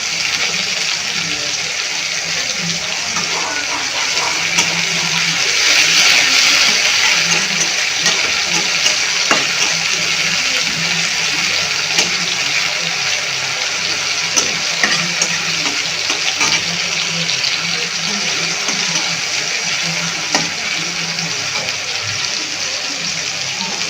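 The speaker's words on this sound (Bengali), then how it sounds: "আমি একটু হালকাভাবে এটা ভেজে নিব," Pumpkin vegetable curry fries lightly in a pan, giving a steady, loud hissing sizzle that runs throughout with small bubbling crackles, close up.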